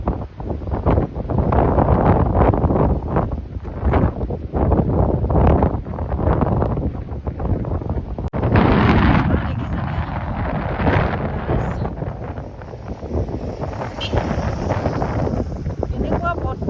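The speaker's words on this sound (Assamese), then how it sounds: "পাহাৰ, পানী আৰু বতাহ তাৰ মিহলি হৈ যিবিলাক শব্দ হৈছে" Strong wind blowing across mountains and water in Arunachal, a loud continuous buffeting roar against the microphone with gusty surges and a sustained rushing hiss that never lets up.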